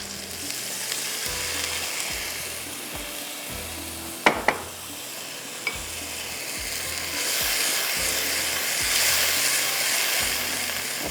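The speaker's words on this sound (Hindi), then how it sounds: "ताकि मसाला अच्छी तरह से भुन जाए।" Masala frying with a splash of water in a pan while preparing kofta, a steady broadband sizzle throughout with a few sharp crackles and spatters midway, close and fairly loud, with a low rhythmic thumping in the background.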